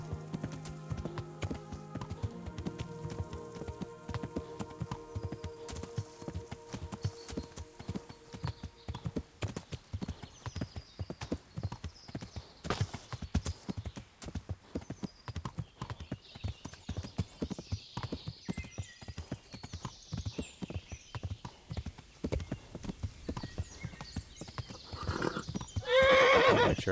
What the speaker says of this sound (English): Make sure our horse is not tired.